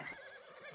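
Horse neighing in the video game Red Dead Redemption 2: a brief, close whinny with a wavering high pitch, lasting under a second, heard alone without talk.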